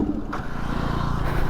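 A Yamaha R15 V2 motorcycle engine runs steadily after being restarted, a continuous low idle drone with a slight rise in pitch partway through, close to the microphone with no talk over it.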